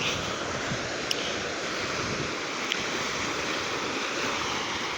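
Sea waves wash steadily onto a beach, a continuous broad roar of surf with wind noise, fairly close and even throughout, with a couple of faint clicks.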